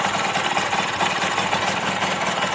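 A Yamaha DT50MX motorcycle's small engine idles off the choke with a steady, close, buzzing putter and a rapid, even pulse throughout.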